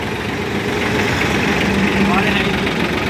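A mini tractor engine, a small 4x4 unit fitted with a rotavator, idles with a steady low chugging drone throughout, close and even, with voices talking over it.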